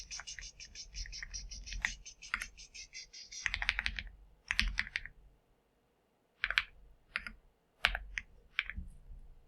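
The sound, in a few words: typing a password on a computer keyboard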